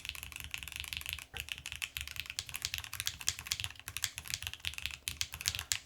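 Brisk, close typing on a WIND Studio Xlice Alice-layout mechanical keyboard, a dense run of crisp keystroke clacks with a short pause early on, with nothing else heard.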